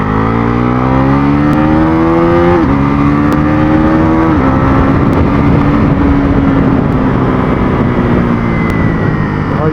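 A Pulsar NS400Z motorcycle accelerates hard, its engine note climbing through gear shifts with brief drops before rising again, loud and close throughout, with faint talk underneath.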